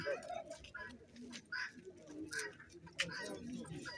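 Pigeons coo softly at a poultry and livestock sale fair in Lyubar, amid a busy background of chatter and clicking sounds, the cooing low and intermittent under people talking.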